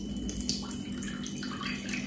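Warm water poured in a thin stream into a Thermomix bowl while making pizza dough, a soft, steady trickle close by with no talking.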